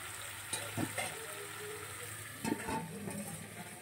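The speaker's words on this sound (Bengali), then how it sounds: "বেগুন ভাজা কিন্তু প্রায় হয়ে এসছে" Eggplant slices frying in a pan over a low gas flame, a steady soft sizzle broken by a couple of brief scraping stirs, close and fairly quiet with no talk.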